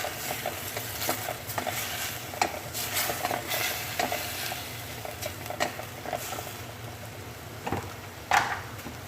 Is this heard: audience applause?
no